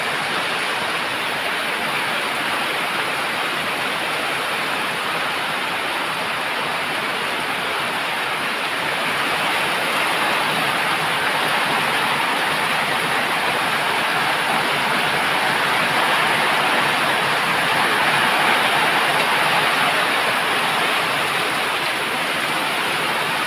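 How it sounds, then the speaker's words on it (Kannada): Heavy monsoon rain in Tulunadu pours down with rushing runoff water: a loud, dense, unbroken hiss and roar that swells slightly in the second half and carries on alone without any talk. "ಭಾರಿ ಜೋರದ ಬಸ್ಸಾರನ್ನು ಉಂಟು."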